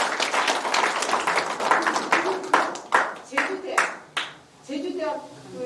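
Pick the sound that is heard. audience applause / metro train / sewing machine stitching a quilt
audience applause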